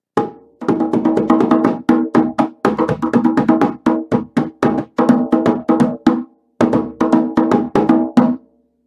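A hand drum struck with bouncing hands, fast rhythmic hits in quick clusters with short pauses between phrases, loud and close with no voices.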